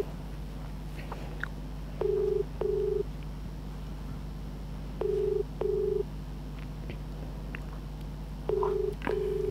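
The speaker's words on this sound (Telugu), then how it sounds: "వెంకటేష్ మా అన్నకి ఫోన్ చేసి ఒక కస్టమర్ కేర్ లెక్క మాట్లాడాలన్న." A phone call being placed and ringing, heard as three pairs of double ring tones spaced a few seconds apart over a low steady hum, with no talking.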